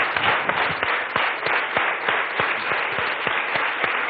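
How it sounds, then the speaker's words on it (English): Studio audience applause for two guests on a televised talk show, a steady dense patter of many hands clapping throughout, with a few sharper individual claps standing out. "Secretary Clinton, a round of applause for both our guests."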